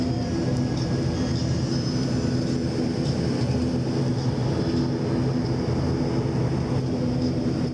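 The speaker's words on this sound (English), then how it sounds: "With the camera set at 5/1000ths of a second, I was able to stop this propeller in motion." A propeller airplane flying over Tahiti fills the space with a steady, loud engine drone and a constant low hum, unbroken for the whole stretch with no voices.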